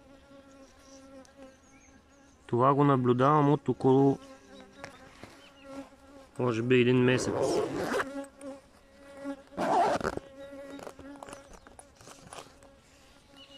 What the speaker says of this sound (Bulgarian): един кошер от пчелина ми, който пчелите се държат странно, като треперят отгоре на летвичките